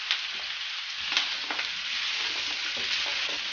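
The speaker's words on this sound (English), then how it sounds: "So the next thing I'm going to add, I'll add my zucchini." Sliced zucchini sautéing in a hot pan for a stir fry gives a loud, steady, bright sizzle with a few crackling pops, heard up close with no talking.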